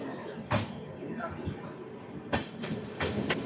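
The eight-coach Tirupati AC Double Decker Express 22707 runs on after leaving Tenali Junction, faint rolling rumble broken by several sharp clattering thumps over rail joints.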